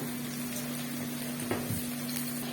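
Onions frying in a pan for chicken dum biryani give a steady soft sizzle with a couple of faint clinks from stirring, quiet and continuous with no talk.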